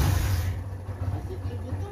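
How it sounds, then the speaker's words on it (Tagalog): A motorized tricycle engine rumbles steadily up close, its low, continuous drone carrying on without pause for the whole span. "Yan, tricycle po yung ginamit nila. Ay, tricycle, motor."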